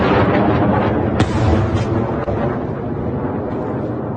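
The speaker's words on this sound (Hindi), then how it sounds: "और ये यमन के मिसाइल हैं।" Yemeni missiles striking Abha airport in Saudi Arabia, heard as a loud, continuous rumbling roar of blasts with a sharp crack partway through, dense and booming throughout.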